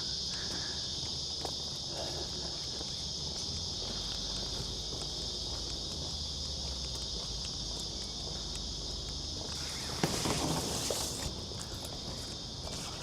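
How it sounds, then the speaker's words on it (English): Cicadas in an Australian summer at Royal National Park keep up a constant high buzzing drone, fairly loud and unbroken, with a brief burst of nearby rustling near the end. "Cicadas, they're called."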